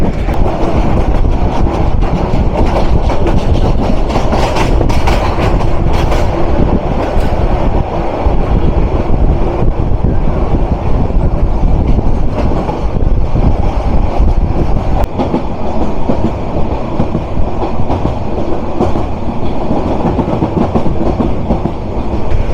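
The Turna Express passenger train rumbles steadily past at close range on a long rail curve at Khilkhet, Dhaka, wheels clacking and rattling over the rails with occasional faint squeals, loud throughout with no voices.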